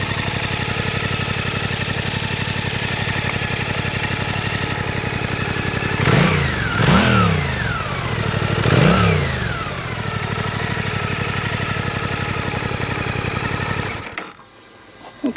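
A Suzuki GSX-8S motorcycle engine idles steadily, then gets a few sharp revs that rise and fall before it cuts off near the end.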